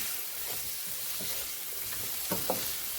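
Fresh green beans sautéing with bacon in a pan, a soft steady sizzle with a couple of faint utensil knocks near the end, no voices.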